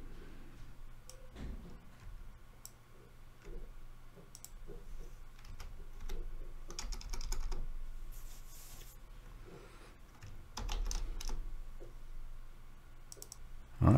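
Someone types code on a computer keyboard, with quick bursts of crisp close key clicks broken by short pauses and a few louder clusters, no one talking.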